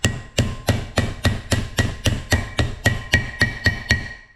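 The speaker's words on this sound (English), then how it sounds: "Set her on there and just beat her in with a hammer." Steady metallic hammer blows on a brake rotor, driving a part in, about three per second, ringing sharply on metal and repeated evenly around fifteen times, close up.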